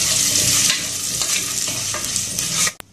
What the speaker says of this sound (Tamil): கால் டம்ளர் அளவுக்கு பாசிப்பருப்பு இதை நம்ம லைட்டாக வறுத்துக்குவோம்